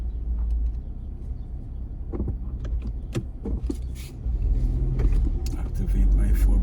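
A 4x4 vehicle driving through thick snow on an icy road, a low steady engine rumble with scattered knocks and crunches, building louder toward the end.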